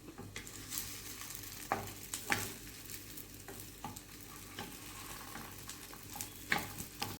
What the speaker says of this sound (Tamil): இதை டீப் ஃப்ரைலாம் பண்ண வேண்டாம் சாலோ ஃப்ரை பண்ணாமலே போதும்